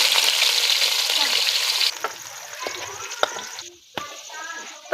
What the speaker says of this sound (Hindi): ये लहसुन और प्याज का तड़का लगाएंगे।